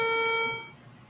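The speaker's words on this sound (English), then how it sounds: "the following is a test of ship's whistle and general alarm" A ship's general alarm sounding during a test: a single steady electronic tone with strong harmonics, loud at onset and held for about half a second before fading into room noise.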